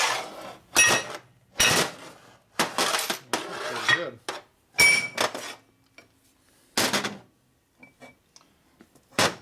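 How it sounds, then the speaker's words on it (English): Sharp metallic strikes of a hammer flattening a metal part ring out close by in irregular bursts, some in quick clusters, then fade to sparse clinks during a 1977 Harley-Davidson Sportster Ironhead 1000cc engine rebuild; a voice speaks briefly. "Take your hammer, hit it flat."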